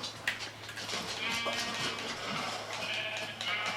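Minecraft sheep bleat in a short series of wavering, nasal calls, moderately close, over a faint background hum.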